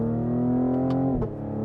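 The engine of a 2020 Cadillac CT5-V holds a steady, loud, tonal drone, then kicks up sharply in pitch with a quick blip as the 10-speed downshifts, heard close from inside the cabin.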